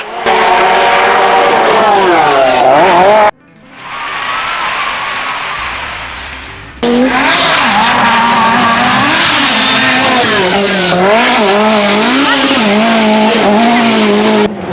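Lancia 037 Group B rally car with a supercharged 2-litre four-cylinder, loud and close, engine screaming through rising and falling revs with tyre squeal, broken by a brief quieter passage before the engine roars back at full volume.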